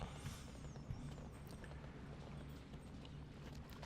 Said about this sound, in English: Let's ride a horse.